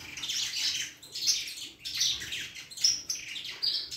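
A canary chirps in repeated bright bursts after being released inside a breeding aviary, several close, lively phrases with short pauses between them and no talking.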